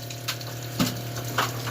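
Water from a well runs steadily through a newly fitted filter into a storage tank, a continuous close hiss with a low hum beneath and a few faint knocks.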